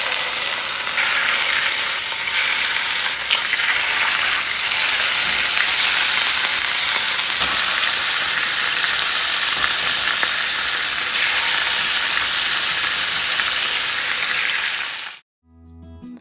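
Chicken pieces fry in hot ghee in a pan for a chicken roast or korma, a loud continuous sizzle and crackle that holds steady before stopping abruptly near the end.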